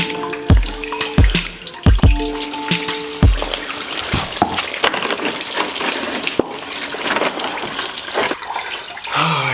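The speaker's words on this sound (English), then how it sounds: "now we're going to flush the water from the radiator" Water from a Genesis 5.0 R-Spec radiator during a coolant flush splashes and gushes, with a few sharp knocks early on, then pours steadily and irregularly, fairly close, no voices.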